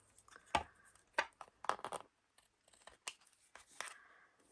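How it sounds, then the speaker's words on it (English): Scissors trimming paper while making a bookmark, a few close, crisp cuts in short bursts with brief pauses between them, no talking. "we're going to trim this part off"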